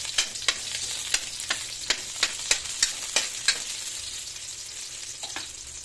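Garlic and onion sauté in a little oil in a pan, a constant close sizzle punctuated by a regular series of about a dozen crisp spatula scrapes and taps, with no one speaking.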